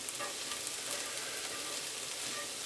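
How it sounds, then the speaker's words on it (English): Vegetables sweating and sauteing in a pot for bean soup, stirred with tongs: a steady, even sizzle and crackle running throughout, close and moderately quiet, with no voices. "saute, just to sweat them out a little bit. Get some of the moisture down."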